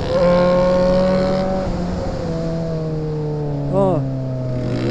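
A car engine revs hard, its droning tone rising and falling in pitch with a brief surge near the end; loud, close and continuous throughout.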